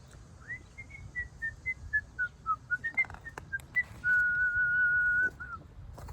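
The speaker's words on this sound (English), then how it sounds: "He learned how to whistle." Someone whistles a short melodic tune alone, a series of clear separate notes rising and falling, then one long steady held tone before a brief final note, close and distinct over a quiet background.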